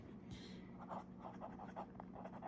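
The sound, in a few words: fountain pen with Sailor medium nib writing on paper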